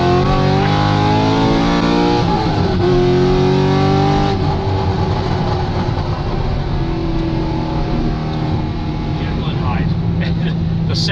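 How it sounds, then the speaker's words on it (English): Corvette Z06 with exhaust valves open, revving up through the rev range from inside the car: a loud, rising engine roar that swells and drops between shifts, with a voice talking over it at times. "The sound transformation when the valves open and it goes through the RPM, this thing sounds terrific."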